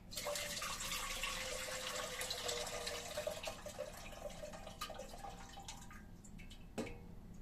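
Water pouring steadily from jars of tomatoes back into a pot, a faint continuous trickling stream that tapers off with a few drips and a small clink near the end.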